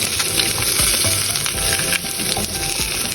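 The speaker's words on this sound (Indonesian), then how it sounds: "Pokoknya digoreng sampai kekuningan." Fish fries steadily in a pan of oil for soup with potato and tomato, a dense continuous sizzle with crackling pops and occasional scrapes of a utensil, close and loud throughout.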